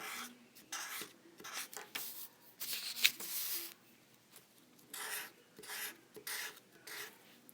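A pen is scratched across paper over scrap paper on a table while filling an op art drawing, giving quiet, repeated rasping strokes in uneven bursts, close and alone.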